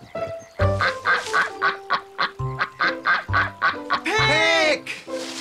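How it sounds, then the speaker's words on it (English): A duck quacks repeatedly in a rapid, evenly spaced series of loud, close honking calls, ending in a longer, harsher burst. "A clue like a quack."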